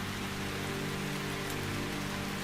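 Incessant rain falls on chiseled granite in the video game Calvino Noir, a steady, dense hiss of drops on stone, soft and continuous with no speech.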